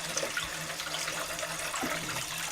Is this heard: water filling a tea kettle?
yes